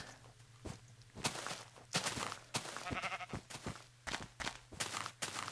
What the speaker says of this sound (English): but of course, just more sheep.